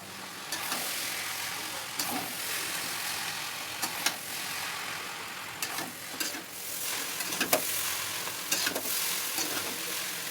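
Chowmein stir-frying in a hot pan, a steady broadband sizzle with occasional louder scrapes and tosses of a spatula, close and continuous throughout with no talking.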